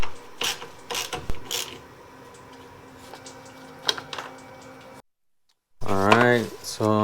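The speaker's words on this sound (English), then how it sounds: "I'm gonna take off these bolts here with a 8 or 10 millimeter socket." A socket ratchet loosens the radiator bolts on a 2012 Jeep Wrangler, with quick bursts of clicking close by, a short silence, and then a voice talking.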